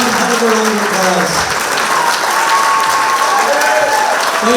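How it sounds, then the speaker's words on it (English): Audience applause at a variety night in Kiltegan, a steady, loud wash of clapping that fills the room for the whole stretch, with faint voices and a little cheering mixed in beneath it. "Give that man one hell of a round of applause."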